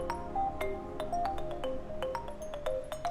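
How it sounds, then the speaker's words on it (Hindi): A phone rings in a home, a repeating electronic melodic tone with sharp rhythmic pulses playing over a faint background bed. "देखो किसका फोन है।"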